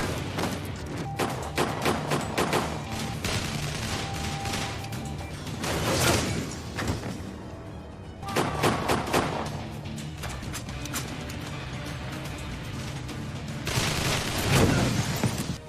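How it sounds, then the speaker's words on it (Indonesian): Gunfire from a .50 caliber sniper rifle echoes through a film scene as heavy shots and crashing impacts, mixed with dense action sound and music, loud throughout. "Di sana Ray menggunakan sniper kaliber 50-nya."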